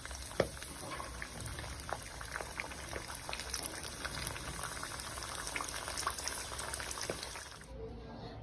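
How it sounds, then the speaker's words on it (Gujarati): Wheat flour methi puris deep-fry in oil over a low gas flame, a soft, continuous bubbling and crackling that stays quiet and steady throughout. "આવી રીતના આપણે બધી પૂરી તળી લઈશું"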